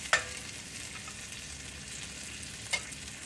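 Bologna fries in butter in a pan with a constant, fairly quiet sizzle, broken by two sharp clicks, one at the start and one near the end.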